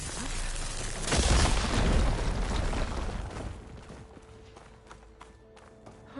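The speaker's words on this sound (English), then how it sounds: "Explosion." A big explosion booms in Horizon Forbidden West, a loud broadband blast that swells over about a second and then fades into a lingering rumble and quieter game ambience.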